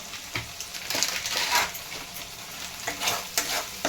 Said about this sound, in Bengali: দিয়ে মশলাটা ভালো করে কষাতে থাকবো